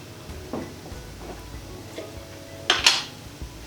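A teaspoon picked up and handled in a home kitchen while spices are measured for a vegan three-bean chilli: a few light, close metallic clinks and taps, ending in a brighter double clatter.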